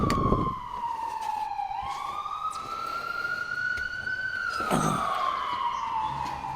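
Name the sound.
ambulance siren passing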